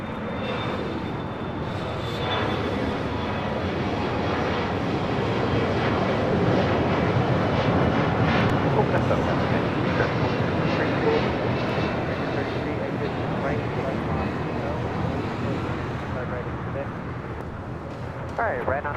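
An airliner takes off from LAX runway 25 right with a loud, sustained jet engine roar that swells and fades slowly. Radio voices talk over the noise.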